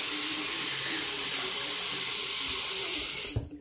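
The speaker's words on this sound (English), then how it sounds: "So right now he's just adding some water in his hair." A bathroom tap runs steadily while a boy's hair is wetted, a constant close hiss of flowing water that stops near the end with a few knocks and splashes.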